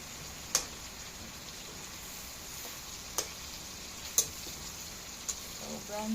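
Food frying in hot oil gives a faint continuous sizzle, broken by a few sharp pops and spatters, heard close and quiet with no one talking.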